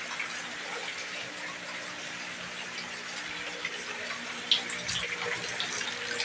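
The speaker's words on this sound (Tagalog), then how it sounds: "Mag-refill tayo dito ng tubig" Water runs steadily from a hose or tap to refill an aquarium during a water change, a constant close hiss and splash with one brief louder splash midway.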